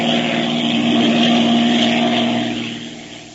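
A propeller airplane circling overhead, its engine giving a steady droning hum that swells to full loudness midway and then fades as it moves away, in an old radio serial scene with no speech.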